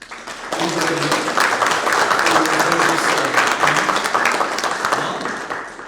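Conference attendees at a cyber security business event applaud, a loud sustained round of clapping that swells quickly, holds steady, then tapers off slightly toward the end.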